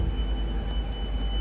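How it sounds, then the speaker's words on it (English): A train idles at the main railway station in Tallinn, Estonia, a steady low rumble and hum with a faint high whine carrying through, close and continuous with no talk. "We're at the Tallinn train station now."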